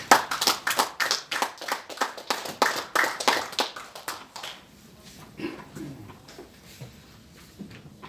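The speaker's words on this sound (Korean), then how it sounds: "박수로 환영해 주시기 바랍니다." An audience applauds to welcome a literary critic at a poetry book launch in an education hall, a dense burst of clapping that tapers off after about five seconds into scattered claps and room noise.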